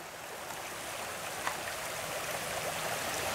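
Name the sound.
creek flowing strongly in the rain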